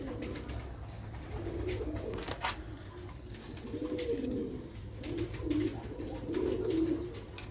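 Sialkoti black-faced pigeons cooing close by, soft throaty coos repeating in slow, rolling phrases over a faint background hum, with no voices.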